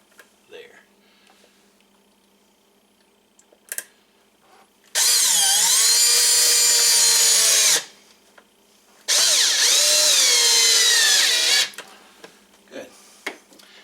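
A power drill drives number 6 by 1/2-inch screws while building a teardrop trailer, two loud whining bursts of several seconds each, rising and falling in pitch, separated by quiet handling clicks and brief talk.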